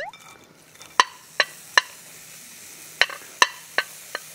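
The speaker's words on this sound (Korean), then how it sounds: "참기름 조금 하고 같이 해서 볶으면 채소가 훨씬 더 고소하거든요" Vegetables, onion first, stir-frying in a pan of cooking oil with a little sesame oil: sharp, close pops and crackles, about seven distinct spits, over a faint low sizzle, with no talking.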